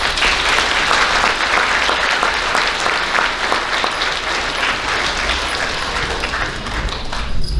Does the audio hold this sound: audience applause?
yes